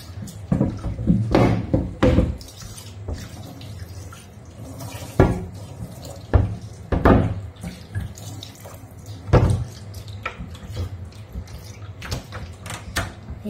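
Kitchen tap running into a sink during dishwashing at home, with splashing bursts, clinks of dishes and intermittent louder gushes over a steady water flow.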